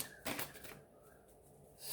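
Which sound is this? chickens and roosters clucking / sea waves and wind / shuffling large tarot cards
shuffling large tarot cards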